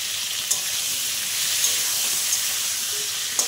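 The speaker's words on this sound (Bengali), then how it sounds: "পটলটা তো অনেকটাই ভাজা হয়ে গেছে, আর একটু ভাজবো" Pointed gourd (potol) frying in a pan with turmeric and salt, a steady dense close sizzle with a few faint clicks of a utensil, no voices.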